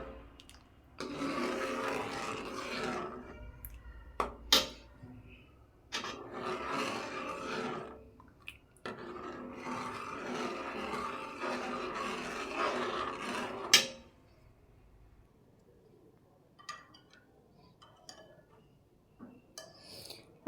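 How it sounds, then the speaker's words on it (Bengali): A spoon scrapes cooked khir, a traditional Bengali sweet, out of a pan and into a bowl. Close, rasping strokes come in several bursts, then the clip settles into near quiet with a few faint clinks. "আমি ক্ষীরটাকে বাটিতে নামিয়ে নিয়েছি।"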